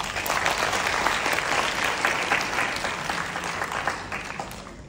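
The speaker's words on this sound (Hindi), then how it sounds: "आप सबके लिए बहुत बहुत जोरदार ताली।" Loud, dense applause from an audience at a youth fellowship graduation event, sustained steadily across the whole stretch with no voices over it.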